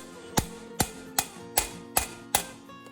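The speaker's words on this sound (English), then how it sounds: "I've got a little nylon drift here, a nylon hammer. And we'll just tap around that plate" Six evenly spaced taps of a nylon hammer on a stuck metal plate, each with a short ringing tail, close and steady with no voices.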